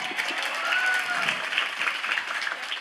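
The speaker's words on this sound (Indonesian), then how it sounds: "Iya, tepuk tangan untuk kita semua." Audience at a halal bi halal gathering of a mosque congregation applauding together, a steady wash of claps lasting the whole stretch, with some voices mixed in.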